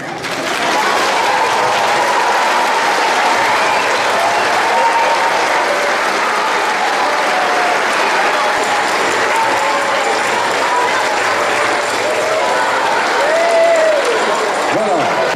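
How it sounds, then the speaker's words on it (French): Sustained applause from a large gathering of scouts at Landévennec abbey, dense and steady throughout with crowd voices mixed in. "je vous invite à vous applaudir les uns les autres."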